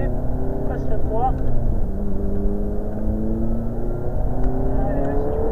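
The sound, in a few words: car accelerating during a driving lesson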